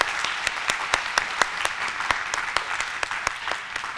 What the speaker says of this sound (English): Let's give them a round of applause one more time.